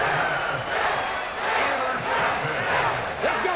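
A big stadium crowd roars and cheers steadily at a Buffalo Bills football game after an interception, a dense, loud wash of voices from many fans.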